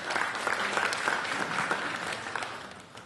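An audience at a French-language church talk breaks into sustained applause, dense and even clapping from many hands that carries steadily throughout without any voices.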